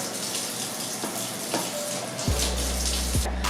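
Tap water runs steadily over potatoes being rinsed in a sink, a close, continuous splashing gush with some shifting tones as the flow changes.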